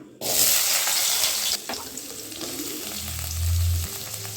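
Onions frying in hot oil with cinnamon and cloves, a loud steady sizzle bursting in at the start, then settling to a softer crackle with a low rumble near the end.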